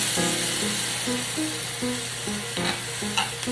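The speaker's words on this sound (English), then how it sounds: "we're adding 1 cup of bone broth to 1 pound of sausage" A cup of bone broth hits a pan of one pound of sausage, setting off a loud, dense, continuous sizzle close up with a few brief spatters and scrapes.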